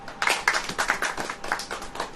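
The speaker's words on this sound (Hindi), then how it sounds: "ताली बजाइए" Congregation clapping hands together at a church prayer service, a steady run of sharp, fairly close claps in uneven rhythm lasting about two seconds, with no talk over it.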